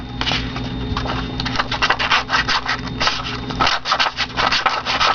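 Quick rhythmic rasping strokes of a heart-shaped sandpaper holder distressing paper edges, close and fairly loud, repeating steadily without pause.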